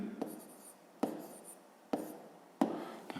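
Pen writing on paper during a fifth-grade math exercise: four short bursts of scratchy strokes, each starting with a sharp tap and trailing off, close and quiet, with no talk.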